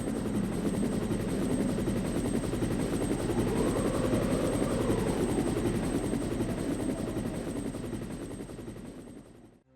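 Helicopter in the Resident Evil video game, a steady loud rotor drone that holds for nearly ten seconds, swelling slightly midway before cutting off abruptly at the end, with no voices.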